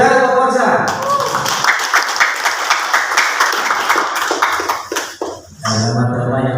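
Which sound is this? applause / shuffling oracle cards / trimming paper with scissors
applause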